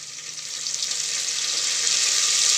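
Chopped onions and mint frying in a pan for a fenugreek-leaf mutton curry give off a steady, dense sizzle that swells slightly louder throughout, with no voices.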